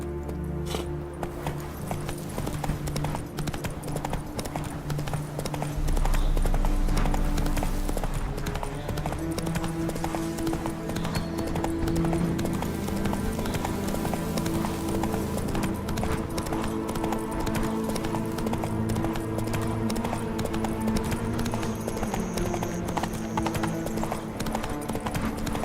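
Roach, the horse in The Witcher 3, trotting with a steady, rhythmic clip-clop of hooves over game music, continuous and fairly close throughout.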